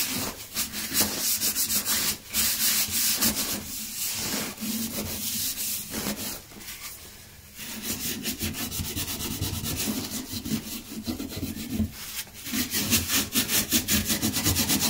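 Rough, repeated rasping strokes scrape residue off a toilet pipe seal, up close and fairly loud, with short pauses between bursts.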